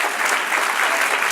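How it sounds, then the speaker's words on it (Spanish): A church audience applauding, a brief burst of dense, even clapping with no break, fairly close and full. "Dale un aplauso al Señor."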